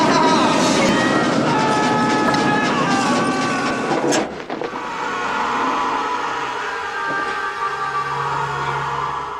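A train rumbles past in the film The Lost Boys (1987) with a steady, loud wash of rail noise and faint clatter, dipping briefly before the roar continues.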